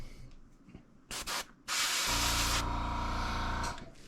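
Airbrush spraying thinned, premixed paint onto the shoulders and belly of a Rusty 1.5 fishing crankbait: short hissing bursts, then one long steady spray with a low compressor-like hum underneath, close and fairly loud, no talking.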